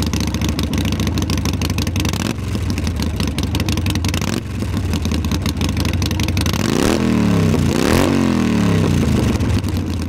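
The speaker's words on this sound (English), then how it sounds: "heavy, black motorcycle that sounds something like this." A heavy Harley-Davidson motorcycle engine rumbles steadily, then revs up sharply twice near the end, loud and close.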